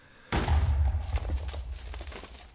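A sudden loud boom in the Magic Farm 3 video game, with a sharp onset, a deep rumbling body and crackling debris bursts as it slowly fades over a couple of seconds.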